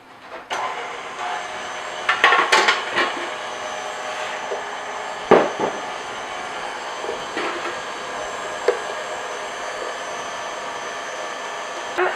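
An electric mixer whirs at slow speed, beating eggs while spinach is added, a steady close motor drone with a few louder knocks and clatters of the beaters against the bowl.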